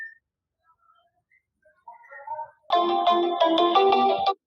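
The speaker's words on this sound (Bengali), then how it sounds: "লিল্টু দা ফোন করছে দেখি।" A mobile phone rings with a tonal, melodic ringtone for an incoming call. A brief, faint, scattered melodic lead-in gives way to a loud, steady ringing pattern that ends abruptly.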